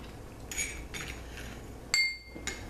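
A utensil stirring a homemade lipstick mixture in a container, a few light clinks and scrapes spaced irregularly, one sharper metallic tap near the end, close and fairly quiet with no talking.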